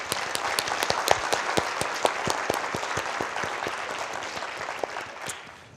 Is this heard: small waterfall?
no